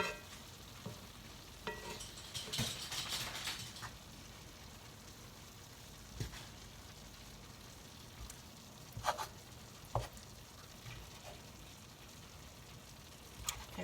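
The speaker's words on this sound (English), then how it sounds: "we're just going to cook this until that cream cheese softens, and we're going to stir it into there" Drained sausage and cream cheese cook in a pan, a quiet, even sizzle with a louder burst of frying early on and a few sharp clicks and scrapes of stirring later.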